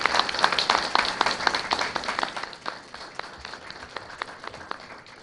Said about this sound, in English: Let's have a round of applause for our new staff.